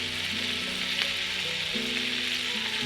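Shrimp scampi frying in butter with a little lemon zest, a dense close sizzle running unbroken with a faint low hum beneath and no talking.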